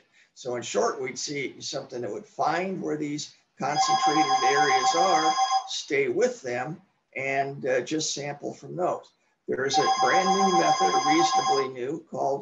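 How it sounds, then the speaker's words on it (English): A telephone rings in two steady electronic bursts, each lasting about two seconds, sounding beneath a man's continuous lecture-style speech. "I'm sorry for the phone ringing in the background"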